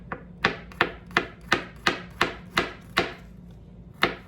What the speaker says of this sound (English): next up is the garlic. 3 cloves finely chopped.